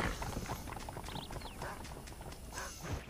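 Horse hooves clip-clopping at a steady trot in the video game Red Dead Redemption, a quick run of soft close hoofbeats over outdoor ambience with faint game sounds.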